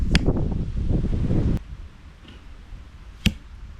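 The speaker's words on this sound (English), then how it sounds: "So I left the sound on for the first 3, just so you can hear how windy it actually is." Gusty wind buffets the microphone at an outdoor archery session with a rough low roar that suddenly drops, followed by quieter breezy hiss and one sharp snap.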